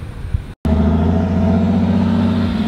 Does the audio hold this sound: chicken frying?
no